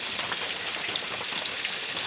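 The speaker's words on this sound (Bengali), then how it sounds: "মাছ ভাজা দেখতে চলে এসেছি" Hilsa fish fry gently in oil in a pan, giving a steady, soft, even sizzle with fine crackling that stays constant throughout, with no voices.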